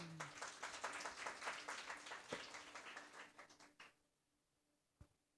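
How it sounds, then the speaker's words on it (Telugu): A church congregation breaks into loud, dense clapping that gradually thins out and stops after about four seconds, with a lone clap shortly after. "గట్టిగా చప్పట్లు కొట్టండి."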